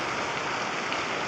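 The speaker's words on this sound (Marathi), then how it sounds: "जबरदस्त पाऊस पडत आहे" Heavy rain pours down in a village, a dense, constant hiss of drops hitting surfaces with no voices heard.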